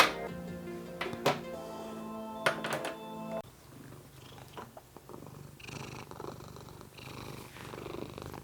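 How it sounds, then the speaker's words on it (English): A small cat purrs softly and continuously up close, after a couple of sharp clanks and buzzing tones at the start. "This cabling session interrupted by an adorable little kitty."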